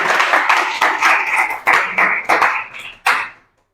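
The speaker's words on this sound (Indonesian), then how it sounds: "Oke, tepuk tangannya untuk kelompok skrip." Audience applause for a student group at an Indonesian teacher-training classroom session, a burst of many hands clapping that swells and dips in waves for about three seconds, then breaks off into silence.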